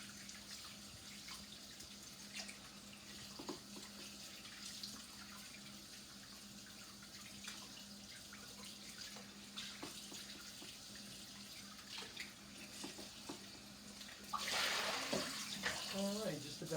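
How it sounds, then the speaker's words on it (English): Tap water runs steadily over pork loin ribs being rinsed in a kitchen sink, a soft continuous stream with small splashes, growing louder and fuller near the end. "And I just rinse this all off."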